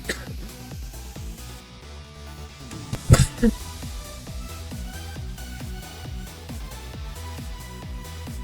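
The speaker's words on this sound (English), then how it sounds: "Coughing spell came out of nowhere." A short burst of harsh coughing breaks out over a steady plucked musical background, two or three rough coughs close together.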